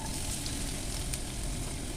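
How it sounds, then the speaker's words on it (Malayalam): Cumin seeds splutter in hot coconut oil, a constant close sizzle with a faint crackle on top and no voices. "ആദ്യം തന്നെ നമുക്ക് ജീരകം പൊട്ടിക്കും വെളിച്ചെണ്ണ രണ്ട് സ്പൂൺ"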